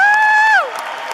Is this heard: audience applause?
yes